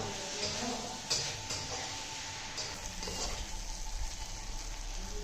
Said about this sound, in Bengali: আর কাঁচকলাও ভাজা ছিল সব দিয়ে দিলাম এবার এর সাথে সুন্দর করে কষিয়ে নিতে হবে